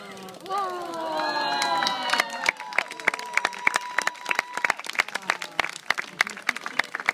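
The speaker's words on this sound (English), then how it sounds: "give them a big round of applause" Applause for newlyweds at a wedding, starting under cheering, shouts and whistles, then settling into steady, irregular clapping from a crowd nearby.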